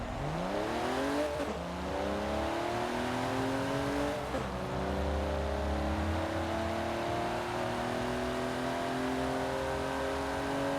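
A GMC Syclone pickup in Forza Horizon 4 launches down a quarter-mile strip, its engine note climbing steadily through repeated rising sweeps and gear shifts, loud and close throughout with no talk.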